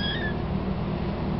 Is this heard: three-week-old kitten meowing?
yes